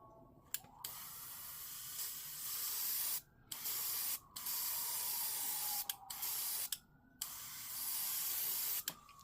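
A Gaahleri Mobius-SP siphon-feed airbrush sprays primer in a steady loud hiss, broken into about half a dozen bursts separated by brief silent pauses.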